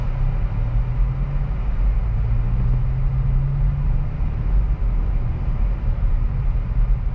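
A 2023 Acura Integra with a manual gearbox pulls away slowly in first gear, its engine giving a steady, loud, low drone and hum throughout, with no voices.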